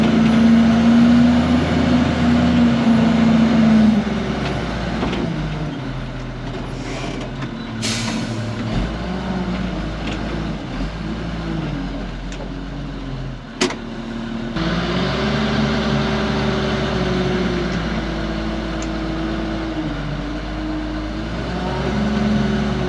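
A belly dump truck hauling sand for a sand volleyball court runs with a steady, loud engine rumble throughout, with a brief sharp knock midway and the drone shifting slightly as it works nearby.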